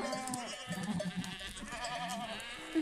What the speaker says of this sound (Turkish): Şimdi keçilerimiz gelsin, onları katalım.